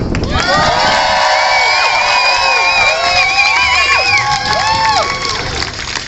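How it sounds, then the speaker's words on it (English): A crowd at a transgender rights rally in New York cheers, whoops and shouts loudly and continuously, with high excited voices layered over scattered clapping throughout. "I think we need to give another round of applause to Julie and to Gender Equality New York."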